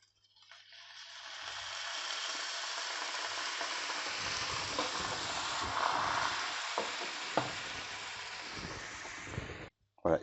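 White wine poured into the scallop juices left in a frying pan bursts into a broad hiss that swells and holds steady with soft scraping, then cuts off abruptly.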